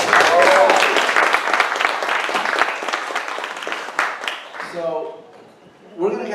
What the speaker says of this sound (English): How about a big round of applause for our candidates?